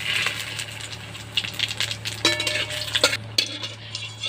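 Dried red chillies, bay leaf and cumin are dropped into hot oil in a kadai, giving a steady close sizzle with bursts of crackle and the scrape and clink of a stirring spoon throughout.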